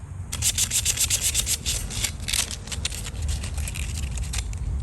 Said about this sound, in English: I'm getting that pipe by sanding a little bit that way and then this way